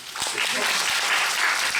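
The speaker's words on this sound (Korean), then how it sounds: "박수 한 번" Audience applause at a curtain-call stage greeting after an evening performance of the musical Sa-ui Chanmi, a steady wash of clapping throughout with faint voices beneath.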